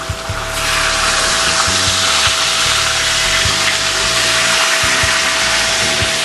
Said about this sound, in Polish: Podlewam wodą.